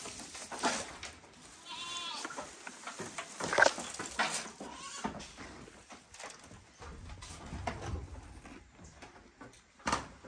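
Goats on a farm in Jamaica bleat now and then while they eat, with scattered nearby calls over a background of shuffling and rustling, and no talk.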